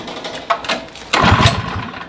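A troublesome small engine with a carburettor catches briefly, coughing into a short, rough burst of running after a faint cranking sputter, close by and without talk.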